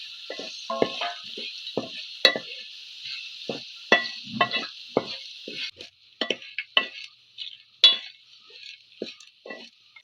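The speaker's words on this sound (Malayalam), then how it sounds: "ചക്ക ഇട്ട് കൊടുക്കാം ഉപ്പും മഞ്ഞപ്പൊടിയും ചേർത്ത് വേവിച്ച ചക്ക" Boiled tender jackfruit seasoned with salt and turmeric stir-fries in a pan, with a steady hiss underneath and a run of irregular scrapes and clinks from a spoon turning the pieces, close and fairly loud.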